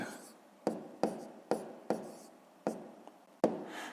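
A pen writes out the answer to a fifth-grade math exercise by hand, making about seven distinct scratchy strokes at a quick, uneven rhythm, close and quiet.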